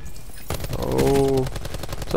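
Rapid automatic gunfire in a Call of Duty match rattles in a steady fast stream, loud and close, with a voice talking briefly over it.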